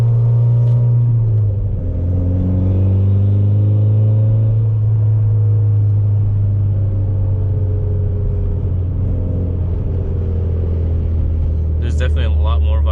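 A Mitsubishi Evo X GSR fitted with Torque Solution motor mounts drones at close range, its engine and exhaust giving a loud, steady low rumble with a slight rise and settle in pitch. Near the end comes a brief metallic rattle.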